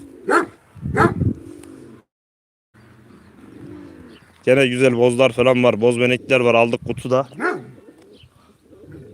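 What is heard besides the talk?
dogs barking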